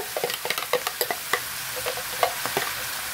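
Chili paste with garlic, shallots and ginger frying in oil in a pan, giving irregular close stirring scrapes and soft sizzling pops with no talking.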